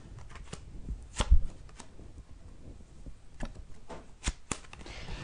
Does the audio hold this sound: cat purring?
no